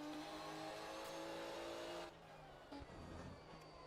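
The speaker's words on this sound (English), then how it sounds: "We'll take a look on the onboard of this Porsche GT3 911." Onboard a Porsche 911 GT3 race car during qualifying, the engine drones loud and steady at high revs, then drops sharply as the driver lifts, followed by a rough lower-pitched run with a brief blip.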